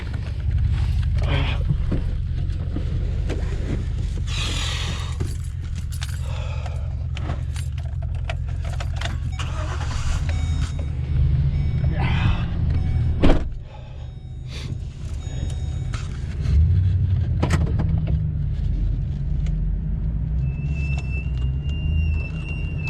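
A vehicle crawls along in a very low gear during a deer hunting outing, a steady low engine rumble with faint rattles and a few knocks, no voices.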